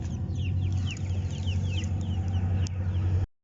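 Brooding hen in a backyard coop giving a steady stream of soft, low clucks and short chirpy calls, close and continuous over a constant low mechanical hum, with no talking.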